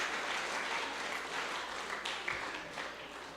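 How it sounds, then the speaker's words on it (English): An audience at a Help A Child program event held by the St Kitts and Nevis Prime Minister applauds the parents, a dense, steady round of clapping heard at a moderate distance with no voices. "Let's give all the parents a round of applause."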